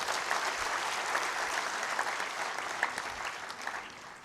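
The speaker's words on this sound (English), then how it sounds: "I think we need to give a big round of applause." An audience claps in a dense, continuous round of applause at a Rotary gathering welcoming cyclists, steady and fairly loud throughout and easing slightly toward the end, with no talking over it.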